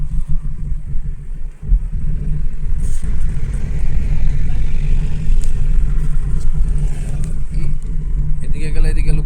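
A car engine rumbles and pulls steadily during a ladies' driving lesson on a bypass road in Malda, with a continuous loud low drone and an instructor talking over it throughout.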